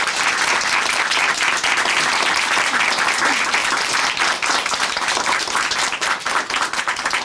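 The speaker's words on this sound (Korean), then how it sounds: "다시 한번 큰 박수 보내드릴게요." A studio audience at a Korean Christian television testimony show applauds in a loud, steady, dense burst that holds at full strength for about seven seconds, with a faint voice or two underneath.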